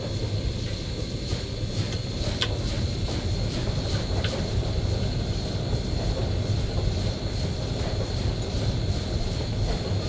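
Steady rumbling drone of a train running in Train Simulator 2018 on the Bessemer and Lake Erie line, constant low mechanical hum with faint rhythmic clicks and occasional sharp ticks, no talking.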